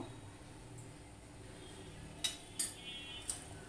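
Metal spoon scraping and clinking against a cooking pot while sugar is stirred in for chitoi pitha, three brief sharp clinks over a low steady background hum.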